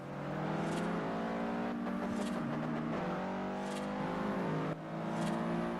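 A Subaru launches at a race start in the Forza Horizon video game, its engine revving hard and close with several quick upshifts and a rising, buzzing whine.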